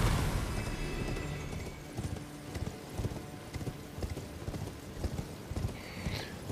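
Horse hooves clip-clop steadily in the Elden Ring: Shadow of the Erdtree game as a rider travels along, a rhythmic, close trot over a dense wash of in-game ambience.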